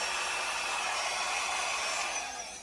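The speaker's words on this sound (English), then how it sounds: "Andrea, turn your hair dryer off." A hair dryer blows a steady, airy whoosh at moderate distance, used while working on a 12x12 canvas background, fading slightly at the end.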